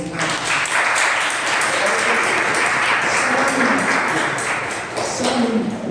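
A church congregation applauds, a loud continuous mass of clapping with some cheering mixed in, holding steady across the whole stretch.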